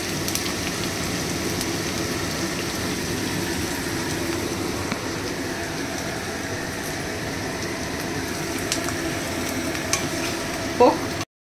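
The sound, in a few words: onions frying in oil until golden brown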